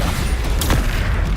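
A Bombarda spell explodes in Hogwarts Legacy, a single loud burst with a crackling boom mid-clip over continuous rumbling game ambience.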